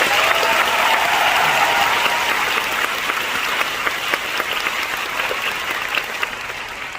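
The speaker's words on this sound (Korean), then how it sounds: "박수 한번 부탁드립니다" Dense, steady applause from a theatre audience at the curtain call of the final performance of the musical Aida at Blue Square, filling the hall evenly and fading slightly toward the end.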